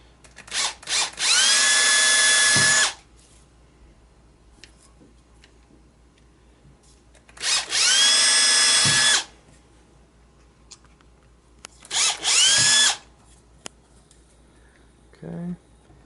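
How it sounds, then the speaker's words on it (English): A power drill with a drill bit bores a row of holes in a Segway clone build, three loud whining bursts of a couple of seconds each separated by quiet gaps with faint handling clicks. "the other way is using a drill bit"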